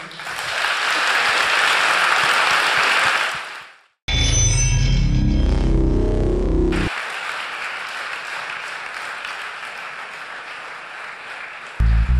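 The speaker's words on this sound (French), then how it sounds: "Vous pouvez les applaudir." An audience applauding a band at a live music event, dense sustained clapping that fades out, breaks for a burst of music, then resumes as softer, steady clapping.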